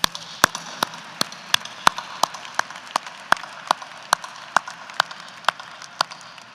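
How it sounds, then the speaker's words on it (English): Sparse, isolated claps ring out at a steady pace across a quiet hall at a university winter commencement, greeting the graduating degree recipients. There is no voice over them. "Let's have another big round of applause for those degree recipients."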